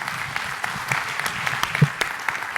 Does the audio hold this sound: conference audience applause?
yes